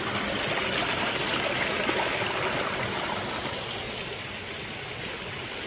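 A stream rushes steadily nearby, a continuous broad wash of flowing water with no pauses or voices, easing slightly toward the end.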